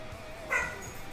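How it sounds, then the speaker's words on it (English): Dogs give a single short bark or yip, somewhat distant and muffled, rising briefly above a steady indoor background hum. "Oh, there goes the dogs."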